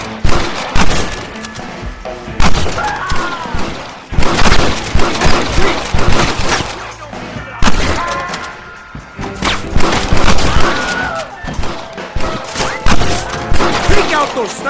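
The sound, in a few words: gunfire in shootout, video game Red Dead Redemption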